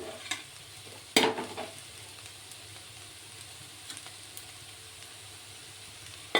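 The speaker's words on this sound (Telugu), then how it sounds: "పసుపు కారం వేసి మంచిగా కలుపుకోవాలి" Chili powder and turmeric being stirred into a frying bean curry, a low background sizzle broken by a sharp scrape of the spoon near the start and a few softer stirs later.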